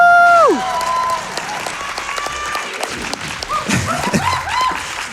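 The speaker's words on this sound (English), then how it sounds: "What a response from the crowd" A live crowd bursts into loud applause and cheering after a Sly 2: Band of Thieves speedrun at the Awesome Games Done Quick 2026 marathon, following a brief electronic game sound at the start.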